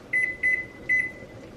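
Three bright, steady beeps from a microwave oven close by, each about a quarter second long and evenly spaced, the last trailing into a longer tone, over a low hum and faint room noise.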